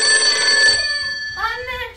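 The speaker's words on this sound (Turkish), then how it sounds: "Aa, Nisa kapı çalıyor." A doorbell chimes at a home's front door at night, a bright ringing tone sustained for under a second and then followed by a second, softer tone, with voices in the room around it.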